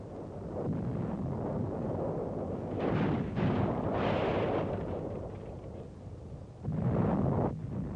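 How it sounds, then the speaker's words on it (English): Heavy German artillery fire pounding a church in 1945 wartime combat, heard as a continuous deep rumbling roar with heavier blasts swelling near three to four seconds and again near seven seconds, with no voices. "A church, apparently taken for an Allied OP, comes under heavy Nazi artillery fire."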